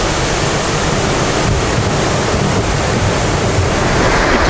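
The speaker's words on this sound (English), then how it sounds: "Big wave crashing, it's very big wave." Big Pacific Ocean waves crash against an island shore at the start of a storm, a loud, continuous roar of surf with wind buffeting the microphone throughout and no voices.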